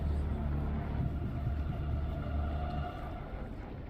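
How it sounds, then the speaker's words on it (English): An approaching dust storm in Dune: Awakening sounds like a deep, continuous rumbling roar with a whooshing wind layer. It stays steady and fairly loud before easing slightly toward the end. "It sounds like a dust storm is coming."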